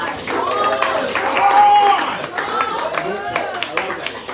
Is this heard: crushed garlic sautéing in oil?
no